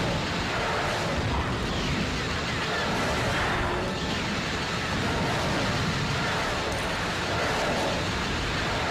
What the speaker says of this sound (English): Who doesn't like going around blowing up meteors?